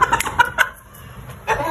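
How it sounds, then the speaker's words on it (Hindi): A rooster clucks in a few short, close bursts with a pause in the middle, loud and without speech over it. "ये चेक करो हमारा मुर्गा किस तरह बड़ा हो गया"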